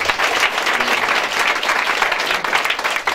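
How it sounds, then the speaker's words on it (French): A church congregation at a Sunday service bursts into dense, loud applause and cheering for Jesus Christ, a continuous wash of many hands clapping together close and full for a few seconds. "Est-ce qu'on peut acclamer Jésus-Christ?"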